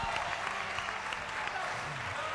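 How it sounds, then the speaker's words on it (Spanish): A crowd at a carnival contest finale in 2020 gives sustained, moderately loud applause, with scattered voices under the continuous clapping. "¡Fuerte aplauso a todos ustedes!"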